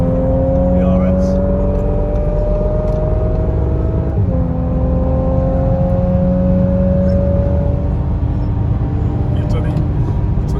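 A 2017-on Audi S4 B9 Avant accelerates hard at high speed on the unrestricted Autobahn, its engine note climbing steadily through a gear, dipping at a shift, then rising again over heavy road and wind roar.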